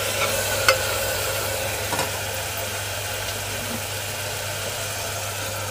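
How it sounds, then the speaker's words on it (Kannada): Onions frying in a few spoons of oil inside a pressure cooker, a steady even sizzle with a low constant hum and a couple of light knocks. "ಈಗ ಇದಕ್ಕೆ ನಾನು ಈರುಳ್ಳಿ ಹಾಕ್ಕೋತಾ ಇದ್ದೀನಿ."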